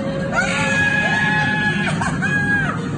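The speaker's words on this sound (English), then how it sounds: "Who can help her? She was screaming." A woman screams loudly and continuously, her pitch rising and falling in long wavering cries with a brief break, close and alone over a noisy beach setting by the ocean.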